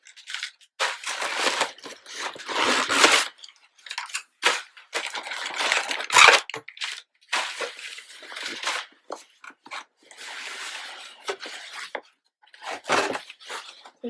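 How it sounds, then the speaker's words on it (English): Tissue paper crinkles and rustles in repeated bursts as a handbag is unboxed, close and fairly loud, with short pauses between handfuls and no talking. "They allow them some tissue paper."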